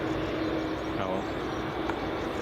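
A heavy airliner rolling out along runway 24 at Edinburgh Airport, a steady broad engine roar holding level throughout the short stretch, with faint voices underneath.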